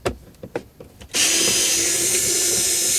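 A power drill whirs steadily for about two seconds as it backs out a trim screw on a 2004 Honda Element, starting abruptly after a few faint clicks and handling noises, close and loud.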